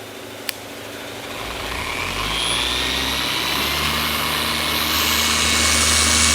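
Orbital car polisher with a large pad and 12mm orbit priming the pad on a BMW F10 M5's paint, a steady close motor whir that rises in pitch and loudness partway through, then holds.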